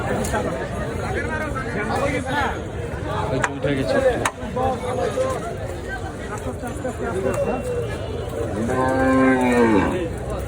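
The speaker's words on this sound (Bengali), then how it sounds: "সুন্দর একটি গরু বিক্রি হয়ে" A cow lowing at a crowded livestock market, with a drawn-out moo near the end rising over continuous chatter and crowd babble.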